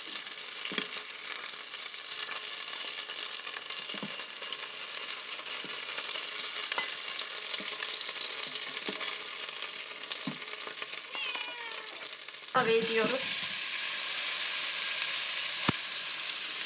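Meatballs sauté in an Arçelik Gurme Şef electric pot, a steady soft sizzle and crackle with occasional stirring clicks, turning brighter and louder near the end; a voice speaks briefly.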